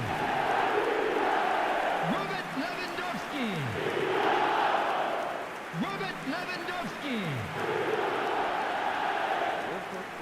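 A stadium crowd roars and chants in the eFootball 2026 mobile football game, a loud, continuous swell that rises and falls, with a commentator talking over it.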